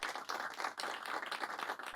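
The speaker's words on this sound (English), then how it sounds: "Guys, let's give Mario a round of applause," A group claps for Mario in a short, steady round of applause, dense and continuous at moderate volume throughout.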